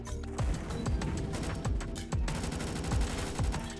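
Rapid gunfire in the Roblox shooter Recoil, hipfired in dense automatic bursts with short gaps, loud and continuous throughout with no talk.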